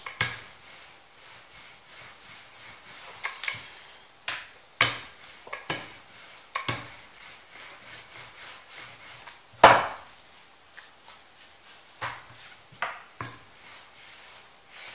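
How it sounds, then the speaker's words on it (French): A rolling pin works lahmacun dough balls flat on a wooden board, giving irregular soft thuds, taps and knocks with quiet rolling rubs between them, close and sparse. "À l'aide du rouleau à pâtisserie, je vais aplatir mes boules de pâte pour en faire des pâtes très très fines"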